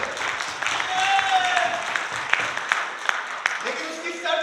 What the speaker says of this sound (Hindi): लेकिन क्या ताली बजा सकते हैं?